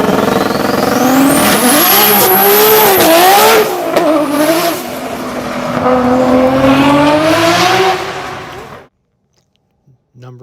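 A Nissan Skyline R34 GT-R sports car engine revs hard and climbs through gears, roaring loudly with a high whine, then cuts off abruptly into near silence.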